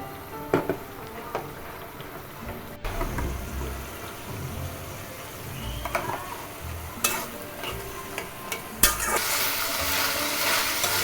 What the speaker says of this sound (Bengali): স্বাদ মতো লবণ হলুদ গুঁড়ো জিরা গুঁড়ো ও অল্প গরম মশলা গুঁড়ো দিয়ে মশলাটা একটু কষিয়ে নেব